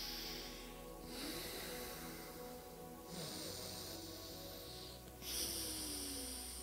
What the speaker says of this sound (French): Nadi Shodhan, la respiration alternée